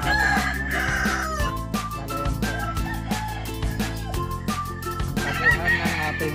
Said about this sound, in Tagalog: Ipakita ko muna sa inyo ang ating manok.